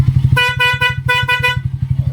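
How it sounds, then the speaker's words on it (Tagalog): A motorcycle horn honks in two pairs of short, loud beeps over a steady idling engine rumble. "try naman natin yung horn natin na pinalagay. Yan, horn, dalawang horn."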